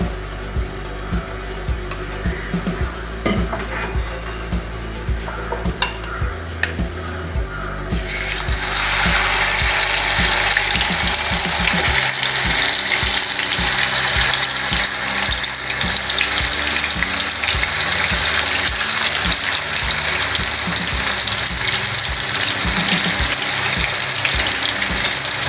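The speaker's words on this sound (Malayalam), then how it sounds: "നമുക്കിത് ഡീപ്പ് ഫ്രൈ ആക്കണ്ട, ഒന്ന് ലൈറ്റായിട്ട് ഫ്രൈ ചെയ്തെടുക്കാം." Fish drops into hot oil in a frying pan for shallow frying, and a loud, continuous sizzle starts partway through and keeps going, after a quieter stretch with a tonal mechanical background.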